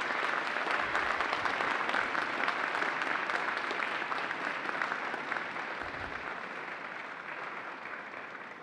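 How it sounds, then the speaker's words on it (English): Graduating business students at a spring convocation give a sustained round of applause, a broad, even roar of clapping that fades slightly toward the end with no speech over it. "give them a round of applause for supporting your journey"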